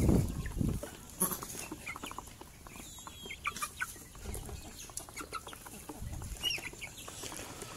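Free-range native ayam kampung chickens cluck and chatter close by in a farmyard, a busy run of short overlapping calls with a few louder squawks over a low background.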